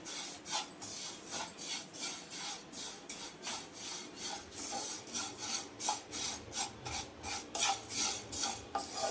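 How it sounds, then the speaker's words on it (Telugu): Vermicelli frying in ghee in a pan, with steady scraping and rasping strokes of a spoon against the pan repeating in a regular rhythm, close and moderately loud, with no voices. "నెయ్యి అయితే కొంచెం వేసుకుంటున్నాను, టేస్ట్ బాగుండిద్ది. ఫ్రై చేసుకుందాం."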